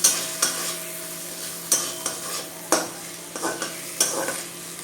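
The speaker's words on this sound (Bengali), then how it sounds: "ভালো করে মশলাগুলোকে আগে মিশিয়ে নিই" Ground cumin and turmeric masala fry in a pan for a Bengali potol chingri dish, with a spoon scraping and stirring in regular strokes over a soft, continuous sizzle.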